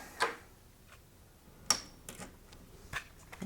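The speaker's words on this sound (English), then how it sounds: "put the keyboard in there." A Commodore 64 keyboard being fitted into a blue Kickstarter case, heard as a few sparse, faint plastic clicks and taps spaced irregularly, with no talking.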